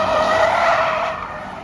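A Mercedes-Benz C200 Compressor with a manual petrol engine drifts, its tires squealing in one loud, sustained screech that slowly fades, with no voices.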